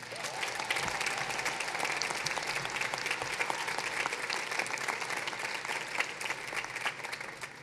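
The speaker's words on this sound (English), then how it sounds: "Can we give them all a round of applause," A crowd at a high school graduation ceremony breaks into steady applause, a dense, even clatter of many hands heard from a distance and sustained throughout.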